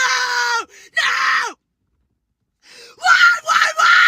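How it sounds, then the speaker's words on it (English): A woman screams loudly and repeatedly into a phone, giving long, strained, wailing cries broken by short gaps and one extended silence. "she's screaming so loud she's spitting on her phone"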